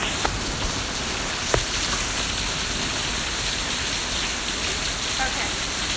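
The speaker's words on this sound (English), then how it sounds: "I want to go out in the rain." A steady downpour of rain hisses on surfaces with a dense, even wash, broken by a couple of sharp nearby drips or taps, and no voices are heard.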